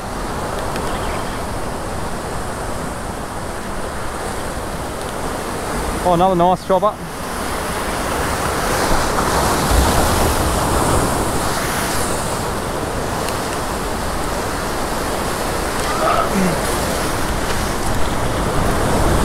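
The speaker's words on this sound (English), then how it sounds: "Oh, waves." Steady roar of surf and wind fills the whole stretch, with a brief spoken remark partway through.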